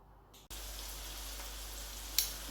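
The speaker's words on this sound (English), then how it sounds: "I already have my onions here frying away." Onions frying in hot vegetable oil give off a steady, faint sizzling crackle up close after a brief quieter moment at the start, with one small sharp pop near the end.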